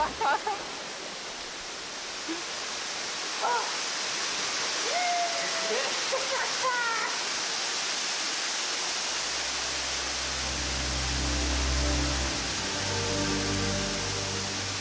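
A waterfall along the road to Hana in Hawaii roars as a steady broadband rush, loud and continuous, with brief higher chirps early on and a low rumbling tone joining near the end.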